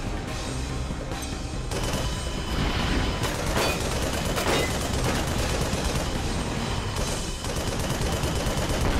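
Rapid, dense gunfire from the Project Nimbus video game, with continuous bursts and booming shots filling the whole stretch, loud and without pause and with no talk.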